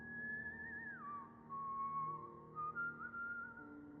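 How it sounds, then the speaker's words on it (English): Eerie whistling with a single clear tone, gliding down after a second and later stepping back up, sustained alone for several seconds over a low hum in an empty basement hallway near an elevator. "I heard whistling at the end of the hallway by the elevator."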